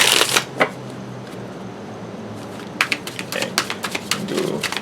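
Tarot cards are shuffled in short bursts of crisp riffling and slapping, with a couple of quick flicks at first, a pause, then a busier run of rapid papery snaps close to the microphone.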